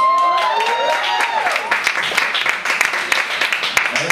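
An audience at a spoken word poetry event in New York applauds and cheers, dense clapping with scattered whoops that thins into separate claps toward the end, loud and close.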